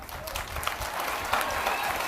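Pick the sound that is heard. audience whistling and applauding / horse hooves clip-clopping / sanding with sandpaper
audience whistling and applauding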